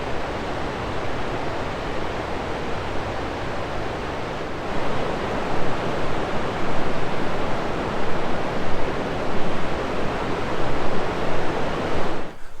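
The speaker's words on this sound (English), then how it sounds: "St. Louis River." Flowing water of the St. Louis River at Jay Cooke State Park, Minnesota, a steady broadband rush that swells slightly in the second half, heard alone without voices.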